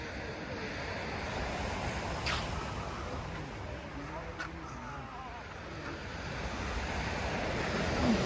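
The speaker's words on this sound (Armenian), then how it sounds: "բայց ալիքը շատ է" Rough sea surf breaks on a beach, a continuous close roar of rushing water and wind buffeting the microphone, with faint voices in the background.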